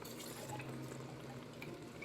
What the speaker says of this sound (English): I'm probably gonna add a little bit of water to these cans